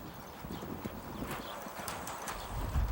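A horse's hooves clip-clop on hard ground at a walking pace, moderately close, over outdoor background noise.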